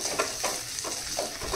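Chapati noodles with tomato are stirred and fried in a pan, producing a close, continuous sizzle broken by rhythmic scraping strokes roughly every half second.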